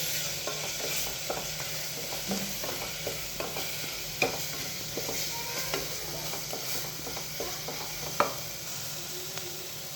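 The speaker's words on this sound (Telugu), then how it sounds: "ఇదంతా కాస్త బాగా ఆ టమోటా అంతా మెత్తబడే వరకు బాగా మగ్గనిద్దామండి" Tomatoes cooked with coriander powder and garam masala sizzle and fry in a pan while being stirred, giving a steady close sizzle with repeated scraping stirs and a few sharp utensil clinks.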